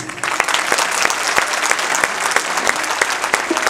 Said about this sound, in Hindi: तालियां कमजोर है।